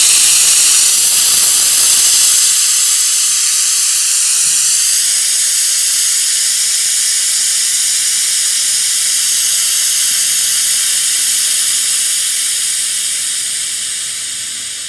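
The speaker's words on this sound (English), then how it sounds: "when we turn this valve to the right, then we're going to vent the nitrogen hydrogen mix that's in the system out" Forming gas of nitrogen and hydrogen vents from a car air-conditioning system through a small breather valve, a loud steady high-pitched hiss that shifts as the valve opens near the start and slowly fades toward the end, with no talking.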